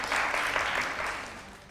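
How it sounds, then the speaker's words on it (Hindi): Applause from a studio audience on a TV game show, a steady dense patter of clapping throughout that thins slightly toward the end. "पहले ही अपने लिए तालियां बजानी शुरू कर दी"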